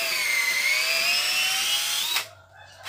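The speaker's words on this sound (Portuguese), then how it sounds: "Você vai furar aqui no talão aqui" Power drill boring into the bead of a tire for a tire swing, a steady high whining run for about two seconds that cuts off abruptly, leaving near silence.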